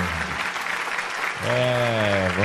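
Audience applause at a musical evening show, a dense wash of clapping throughout, with a voice speaking over it near the start and a sung or sustained voice rising in the second half.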